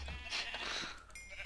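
Sheep bleats from Minecraft, faint and brief, a couple of short nasal calls over a quiet game background.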